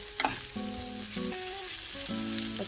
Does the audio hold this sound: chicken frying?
yes